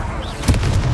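A Confringo fire spell bursts as a single sharp blast about halfway through, over a low rumbling backdrop of combat in Hogwarts Legacy on Xbox Series X.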